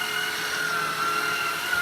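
A Hoover Fusion Pet cordless stick vacuum running steadily close by, a smooth airy whine with a constant high motor tone and no pauses.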